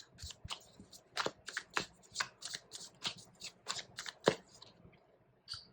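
A deck of tarot cards is shuffled by hand up close, a quick run of crisp riffling bursts in an uneven rhythm, fairly quiet and with no talk.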